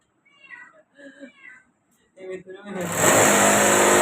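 A house cat meows in short repeated calls, near and clear, then a loud broadband roar of machinery or an engine swells up and drowns everything for the last second in a workshop setting.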